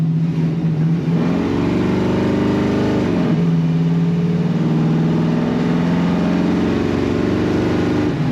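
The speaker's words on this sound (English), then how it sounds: "Love that exhaust noise." A 1969 Chevrolet C10 pickup engine revs up and settles back repeatedly, its exhaust note rising and falling in steady swells, loud and close with no talking.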